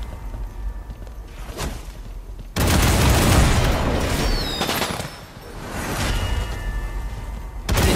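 Bombard cannons firing in the War For The Overworld video game: repeated broad booming blasts, loud and close, with bursts of impact noise and whooshes running through most of the stretch.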